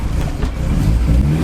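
A car engine drones low and loud, pulling steadily in second gear after a clutch shift, heard close from inside the vehicle.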